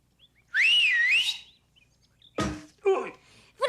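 A loud rising-and-falling wolf whistle at women in a Lucky Luke cartoon, followed by a couple of short thuds and a brief chirpy sound.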